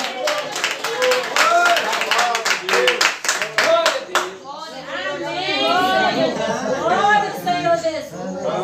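Clapping at a Portuguese-language church service held in a home, a burst of hand claps in the first half giving way to voices talking and singing together.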